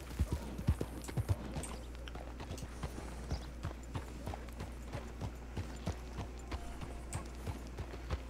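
Steady horse hoofbeats in a Red Dead Redemption 2 roleplay game clip-clop in an even walking rhythm against a constant low hum, fairly close, with no voices.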